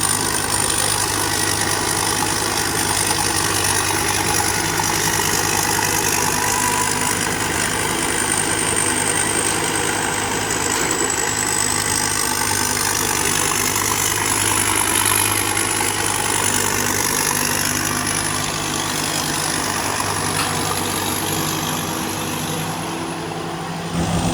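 A combine harvester engine idles steadily, a loud, constant mechanical drone with a high whine that wavers slightly in pitch and no voices over it.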